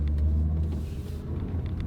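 A Mazda SUV cornering on the road gives a low steady cabin rumble of engine and tires, close and even, with faint road noise and no talk.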